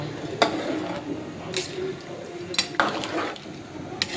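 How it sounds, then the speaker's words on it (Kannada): A spoon scraping and clanking against a cooking pot while stirring masala for North Karnataka–style pulao, with several sharp metallic knocks at irregular moments over a low background and a faint voice. "ಸೊ ಒಂದು ಸ್ವಲ್ಪ ಈ ಥರ ಹಿಂಗೆ ಚಮಚ ಆಡಿಸ್ಬೇಕು ಎಲ್ಲ ತಿರುಗಿಸ್ಬೇಕು ಹಿಂಗೆ"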